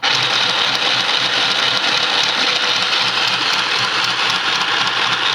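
A secondhand sewing machine running with its needle moving up and down but not stitching, a steady close mechanical whir with a faint rapid rattle throughout, no talking.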